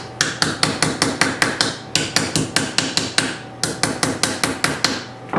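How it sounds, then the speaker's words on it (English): Frets are hammered into the slots of a guitar fingerboard, giving rapid sharp metallic taps in quick bursts of several strikes separated by brief pauses, close and loud with no talking. "that little fret angle lets me control when I'm hammering in my slots, or my frets into the slots"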